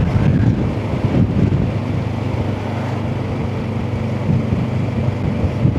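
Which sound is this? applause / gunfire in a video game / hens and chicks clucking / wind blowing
wind blowing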